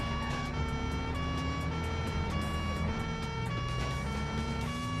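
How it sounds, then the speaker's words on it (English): Loud, continuous siren on a car in the Stuntman video game, wailing steadily with harmonic tones alongside engine rumble, close and dominant throughout with no talk. "Or the siren, rather."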